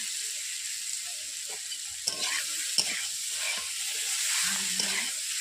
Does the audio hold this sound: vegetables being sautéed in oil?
yes